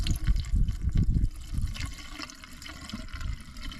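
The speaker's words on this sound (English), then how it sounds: "and then fill the rest of it up with water." Water is poured from a container into a fluid tank under a truck's bonnet, a close, gurgling splash that is loudest in the first second and then settles into a steady, softer trickle.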